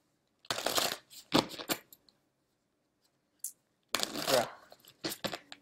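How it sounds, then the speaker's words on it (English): Tarot cards from the Tarot of the Obscure Fables handled and drawn in short bursts of close, crisp shuffling and sliding, separated by quiet gaps. "I'm going to take the tarot here, the tarot of the obscure fables, and highlight the first 3 cards here"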